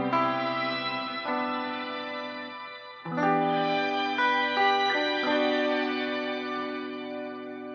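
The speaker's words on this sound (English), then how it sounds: "that was that's just a simple hall reverb right there." Electric guitar chords played through a simple hall reverb, each strum blooming into a long, smooth decay, with a pause before a brighter second phrase of sustained notes.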